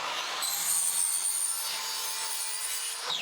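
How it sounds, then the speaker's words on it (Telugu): A machine cutting aluminium profiles for mesh doors in a workshop gives a steady, loud, bright grinding whine that runs without a break and cuts off at the end, with no voices over it. "ఇది మిషన్, ప్రొఫైల్ కటింగ్ చేసే మిషన్."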